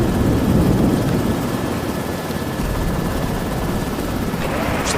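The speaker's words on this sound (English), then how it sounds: "So I have to put the helicopter down." A helicopter in a video game drones steadily with a loud, close rotor and engine rumble that holds throughout, with no talk over it.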